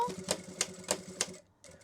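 A sewing machine stitching fabric for a glasses case, a few short, evenly spaced mechanical clacks at a steady pace, quiet and close, then stopping.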